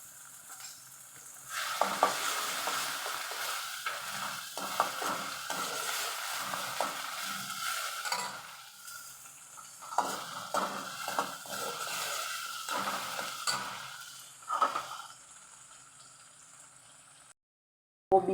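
Onion, garlic paste, ginger and green chilli stir-fry in a pan with a continuous sizzle and repeated scraping strokes of stirring, then it cuts to near silence at the end.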